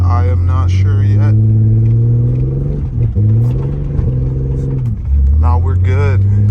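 A 2WD Jeep WJ's engine revs and strains while the tires spin in snow. The loud, close drone holds steady, dips briefly, then rises again. Speech-like voicing sits over the engine at the start and end.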